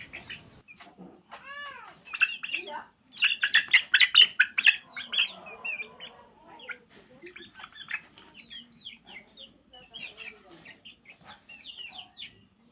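Newly hatched chicks, a black fighter breed and local desi hens, peep in a cage in a shrill, busy chorus that rises and falls, with some louder bursts and soft rustling in the background.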